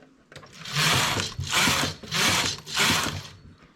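A knitting machine carriage slides back and forth across the needles in four rhythmic, whooshing, clattering passes, close and moderately loud.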